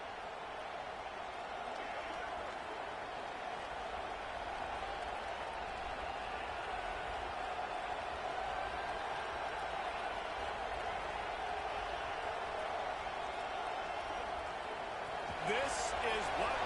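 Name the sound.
stadium crowd at a Nebraska Huskers football game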